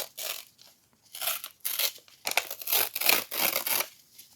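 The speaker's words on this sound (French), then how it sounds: "Donc, je peux déchirer comme ça ou comme ça." Paper ripping as a page is torn out of a magazine: several short, crisp tearing strokes in an uneven rhythm, close and fairly quiet, with no speech.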